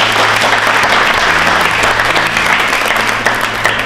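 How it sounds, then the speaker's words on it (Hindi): Studio audience at a televised election quiz show in Jaipur applauds loudly and steadily, a dense unbroken wash of clapping from start to finish with no talk over it. "जोरदार तालियां बजाइए।"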